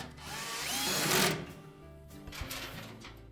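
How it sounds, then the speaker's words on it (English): A cordless power drill briefly whirs up and winds down as it drives screws into the support brackets of a Whirlpool washer during a repair, close and fairly quiet, followed by light clicks and handling noises. "we'll put the other two center screws in and secure it to the support brackets"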